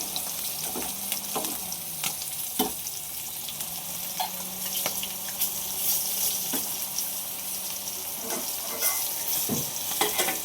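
Boi fish, a creek fish, sizzles steadily in a frying pan while a utensil stirs and scrapes now and then, the hiss of frying running continuously underneath with no speech.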